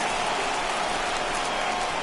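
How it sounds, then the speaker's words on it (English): Steady rain pours down throughout a rainy baseball game in MLB The Show, a dense, even hiss with no breaks and no voices. "we've mentioned the conditions aren't ideal with the rain coming down"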